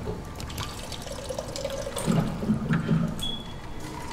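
Water runs from a tap in the sci-fi horror game Soma, a soft continuous trickle and splash that swells slightly midway, heard alone without talking.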